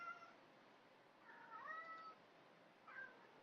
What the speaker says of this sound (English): I have a mouthy cat in the background